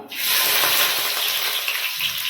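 Onions hit hot ghee in a pan and set off a loud, bright sizzle that holds steadily for a couple of seconds, close and alone.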